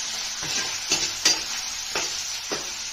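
Paneer Manchurian frying in a pan, a bright steady sizzle broken by several sharp spatula scrapes and stirs at roughly half-second intervals, close and fairly loud, with no talk.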